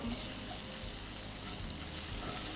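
Chopped garlic sizzling in oil for a falafel sauce, a steady close frying hiss that runs unbroken for the whole stretch, with a faint low murmur underneath.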